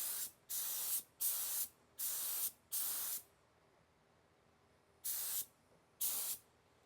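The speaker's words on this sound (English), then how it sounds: "We're gonna clear coat all that," Clear coat is sprayed onto a GTO car in six sharp, steady hissing bursts, four close together and then two more after a short pause, with no talking.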